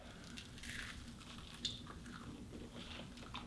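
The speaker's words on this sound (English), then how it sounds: "Let's take a bite." Someone bites into a chocolate coconut macaroon, producing a soft, quiet squish with one slightly sharper crunch partway through, close and faint against a low background hum.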